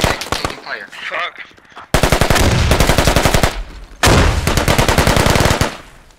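Sustained automatic gunfire in the military shooter Squad, loud and close, in long rapid bursts broken by a short pause, with a faint voice underneath at the start.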